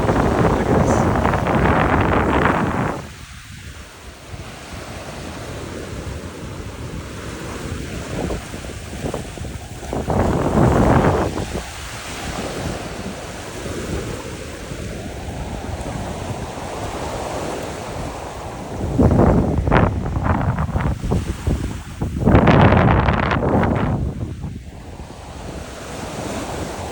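Surf rolling onto the beach at Miches, Dominican Republic, in repeated swells that build and break every several seconds over a steady wash, with wind buffeting the microphone.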